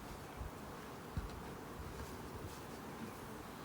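Honeybees drone softly and steadily around an open hive box while a new box is added, with no voices over it and one brief knock partway through.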